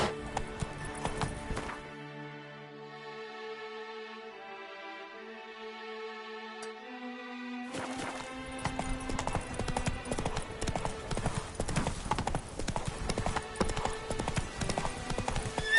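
Horse hooves clip-clop in a steady rhythm, close and clear, with a quieter stretch in the middle where a tonal sound briefly takes over before the hoofbeats return strongly.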